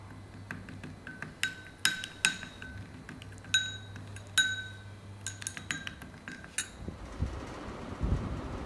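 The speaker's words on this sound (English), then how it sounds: "take 1 tablespoon of rice flour and take 1 tablespoon of curd and mix it together" A spoon clinks sharply against a bowl while rice flour and curd are mixed into a paste, giving close, irregular metallic taps over a soft low hum, with no voices.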